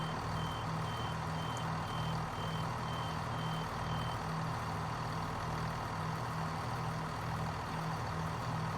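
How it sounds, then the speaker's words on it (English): A train in Train Sim Classic on the Chiltern Mainline Aylesbury extension sounds a steady run of evenly spaced warning beeps as its doors open, over a continuous low engine idle hum. "The doors are opening on the left."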